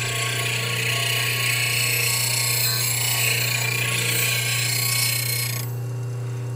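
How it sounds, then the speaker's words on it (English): A bench grinder sharpens a woodturning bowl gouge, its steady motor hum carrying a loud, continuous hiss of steel on the wheel for several seconds before the grinding drops away. "we're going to come over here and grind the other one"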